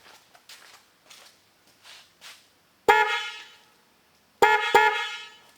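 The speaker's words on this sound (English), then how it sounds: "I'll feel better knowing that they definitely hear my horn" Newly fitted dual car horns on a 2007 Pontiac Solstice blare loudly and close in two bursts, one long honk and then a double toot, after a stretch of faint footsteps and handling noise.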